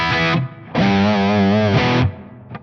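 A distorted electric guitar rings out through a high-gain amp: one sustained chord, a short gap, then a longer held chord that fades.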